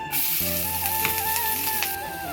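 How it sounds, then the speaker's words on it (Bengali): Chopped onions hit hot oil in a home kitchen pan and give a steady, close sizzle that holds across the whole moment, with a tonal hum underneath and no voices. "তেল গরম হয়ে গেছে, দিয়ে দেবো পেঁয়াজ"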